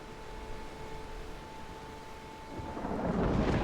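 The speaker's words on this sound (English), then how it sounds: "we moved fucking fast through that storm" Thunderstorm in a video game, with a steady wash of rain and rumbling thunder that swells louder toward the end, a faint steady tone running underneath.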